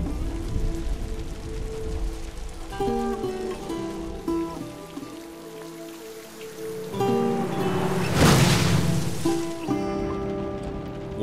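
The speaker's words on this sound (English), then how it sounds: "Look at the rain." Steady rain hiss in The Last of Us Remastered, with an in-game storm building, layered under game music tones; the downpour swells louder and brighter for a moment around the middle before easing back.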